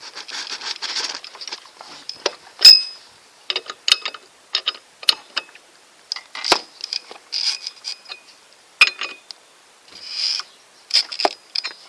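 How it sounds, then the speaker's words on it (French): A 14 mm socket wrench unscrews a scooter variator nut, producing close, rapid ratcheting clicks in repeated short bursts with quiet gaps between strokes. "On prend une clé de 14, préférence à pipe. C'est vachement plus simple pour dévisser."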